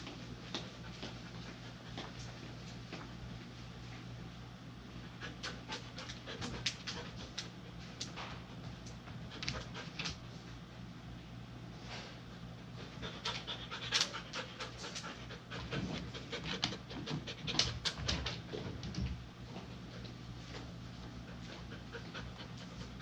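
A Labradoodle pants rapidly and continuously at close range during grooming, with a steady rhythm and a low background hum, occasional small clicks and rustles.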